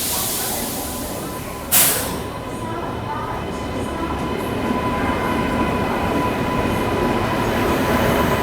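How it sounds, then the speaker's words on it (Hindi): Janmabhoomi Superfast Express pulling into platform 3 at Secunderabad railway station in the morning, a steady, heavy rolling rumble with hiss that builds slowly, with one sharp clank or bang near the start. "सामने से ये आ रही है अपनी जन्मभूमि सुपरफास्ट सिकंदराबाद रेलवे स्टेशन के प्लेटफॉर्म नंबर"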